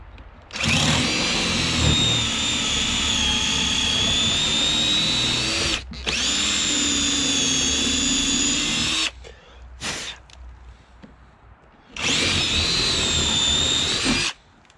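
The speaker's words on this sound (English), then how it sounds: "we should be able to drill through that last one right there." A loud power drill whines steadily through material in long bursts, stopping briefly between runs, then starting again.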